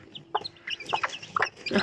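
Chickens give several short, close clucks in quick, uneven succession against a quiet background.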